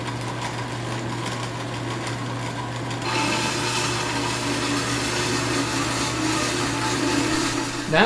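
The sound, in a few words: vertical bandsaw cutting sheet panels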